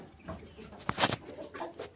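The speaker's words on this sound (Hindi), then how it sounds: "वो देखो जी सामने मुर्गी मुर्गी आपस में लड़ रही हैं" Aseel chickens clucking at a moderate distance, a few short irregular clucks and squawks over a quiet farmyard background.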